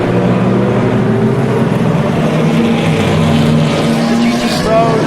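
LMP2 prototype race cars and the Delta Wing roaring past on a circuit, a continuous loud blend of engines with rising and falling pitch and a commentator talking over it.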